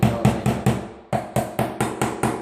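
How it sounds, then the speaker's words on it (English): A hammer taps nails down into the floor along a carpet edge: about ten sharp, close, evenly spaced knocks, one short pause partway through, no talking. "we're going to go back with a hammer and we're just going to tap all these"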